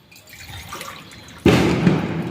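A glass of water tipped into a cooking pot of goat trotters for soup, a faint trickle that suddenly becomes a loud, close, sustained splashing pour.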